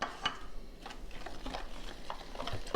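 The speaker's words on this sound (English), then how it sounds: "we just start stirring this a little at a time till we get the consistency that we like" A spoon stirs cookie dough with milk and vanilla in a bowl, giving soft, steady scraping and light clinks. It is quiet and close, with no voices.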